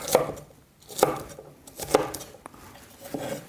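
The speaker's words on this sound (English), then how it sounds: "So with this I'm just going to cut it into chunks." A knife chops raw chicken into big chunks on a cutting board for lime chicken fajitas, about five sharp, close knocks at an uneven pace with no talking.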